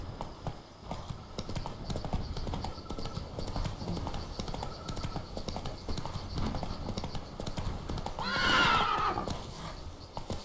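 Roach, the horse in The Witcher 3: Blood and Wine, gallops with rapid rhythmic hoofbeats, then lets out a loud whinny near the end.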